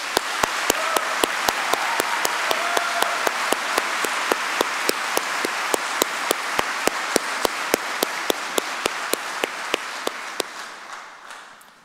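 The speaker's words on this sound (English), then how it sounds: "please join me in giving a massive round of applause and thank you firstly to the university" A graduation ceremony audience gives a long round of applause, a full, even roar of many hands joined by a sharp, regular clap close by, tapering off at the end.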